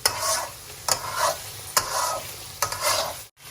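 Onions frying in a pan for lamb karahi, sizzling steadily while a utensil scrapes and stirs them in four clear strokes, close and loud with no voices.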